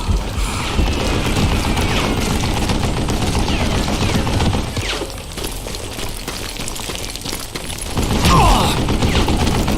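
A mounted gun in Call of Juarez: Gunslinger fires long, rapid bursts, loud and close, briefly thinning midway before roaring back into dense automatic fire.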